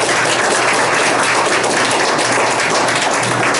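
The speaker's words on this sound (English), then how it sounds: "Give a round of applause for Richard." Applause from the audience at a Memorial Day forum on veteran homelessness in Tucson, Arizona: a steady, dense wash of clapping that holds at an even loudness for the whole stretch, with no voices over it.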